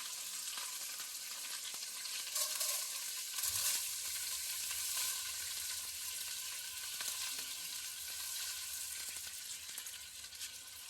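Rice frying and being stirred in a hot wok, a steady close sizzle with occasional scraping and clinking of the spatula against the pan, no talking.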